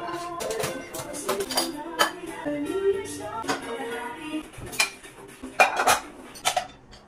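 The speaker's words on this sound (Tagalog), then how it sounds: "Lilinisan ko nga lang tong platahan ko mga mi, babrasin ko lang to" A dish rack being brushed and scrubbed clean, giving irregular metallic clatters and rattles of plates and cutlery, some sharp knocks standing out over quieter scraping, close by.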